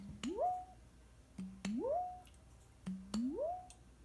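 Three sharp taps on a glass canning jar with a two-part metal lid, struck from the other end, each giving a bright click and a ringing tone that sweeps upward, evenly spaced and close.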